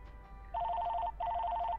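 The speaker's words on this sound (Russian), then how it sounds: "Звонит телефон." A telephone rings in the game LAKE, two bursts of rapid electronic trilling separated by a short pause, clear and alone against quiet room tone.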